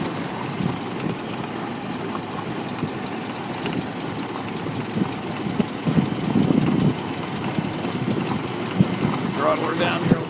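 A 1913 Ford Model T engine idles steadily with a low rumbling, knocking beat that runs throughout. It is close and fairly loud, with a brief rise in the middle as the throttle is worked and people talking underneath.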